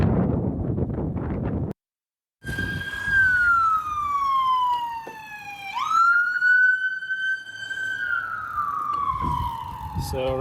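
Ambulance siren wailing on a Portland street, sweeping up and down loudly and steadily across most of the stretch after a brief gap, with wind buffeting the microphone throughout.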